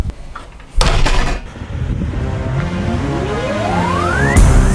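A car door slams shut with a sharp, loud thud near the start, followed by an engine starting and revving with a rising whine.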